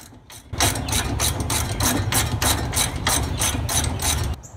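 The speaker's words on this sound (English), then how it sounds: "Let's get the wrench to tighten them up a little bit." Ratchet wrench snugging lug nuts on a five-lug hub conversion, a steady fast run of close, loud mechanical clicks for about four seconds, alone without talk.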